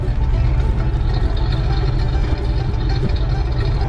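A Cadillac's 4.9-liter V8 idling nearby, a steady low, even rumble that holds without revving throughout.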